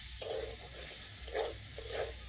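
Ingredients for a rice-flour and potato snack sizzle in a pan while being stirred, a soft continuous hiss with a few short scraping strokes of a spoon, fairly quiet and without talk.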